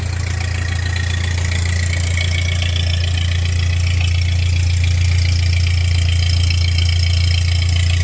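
A car engine idles steadily on a freshly replaced carburetor, running slightly rich, with a loud constant low rumble and a hissing high whine throughout and no talk.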